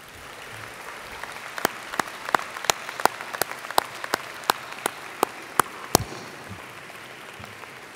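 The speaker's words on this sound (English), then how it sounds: "I would like a round of applause for you to thank those who have supported you" At a university Faculty of Arts convocation ceremony, sparse individual hand claps ring out in a slow, uneven series over a quiet hall hush, each sharp and distinct, ending around six seconds.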